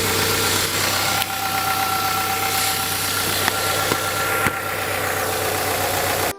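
A Subaru 2.5-liter EJ25 engine, as fitted to the Outback, Forester and Legacy, runs steadily at a loud, close idle with a constant mechanical hum and light knocking vibration, with no voices.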